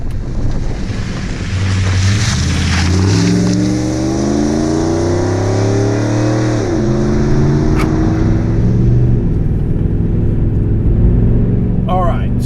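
A modified 1998 Jeep Grand Cherokee 5.9 Limited with 180,000 miles pulls away and accelerates, its V8 engine rising through the gears with loud, steady drive noise and wind buffeting throughout.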